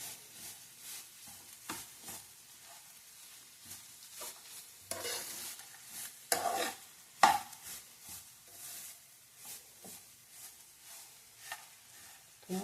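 Amla laddu mixture stirring and gently sizzling in ghee over a low flame, with soft repeated scraping strokes of a spoon in the pan, close and fairly quiet throughout.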